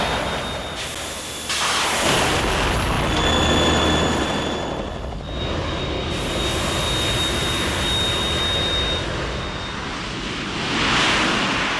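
In Metal Gear Solid 2, a Harrier jet roars continuously as a loud, broad rushing drone with a thin high whine, swelling and easing slightly over several seconds with no talk.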